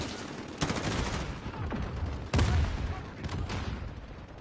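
Gunfire in the video game Modern Warfare, rapid bursts of close, loud shots with sharp cracks at intervals over a continuous rumbling battle background.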